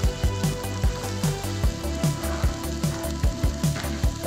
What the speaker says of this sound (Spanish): Por este lado vamos a cocinar los zucchinis, ¿no? Tiene una capa muy delgada de aceite de oliva.